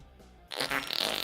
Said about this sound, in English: You actually farted.